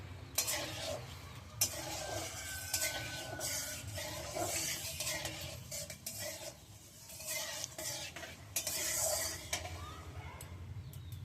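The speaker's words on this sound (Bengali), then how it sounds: "তেলটা একটু নাড়িয়ে দিই" Hot oil with cumin seeds and bay leaf sizzles in a wok (kadai) while a utensil scrapes and stirs in repeated quick strokes, close and fairly quiet.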